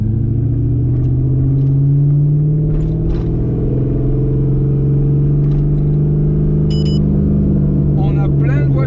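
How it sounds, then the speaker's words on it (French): Drift cars idle and rumble at Sandia Raceway, a steady low engine drone with occasional revs and clanks nearby while someone talks over it. "On a plein de voitures de drift"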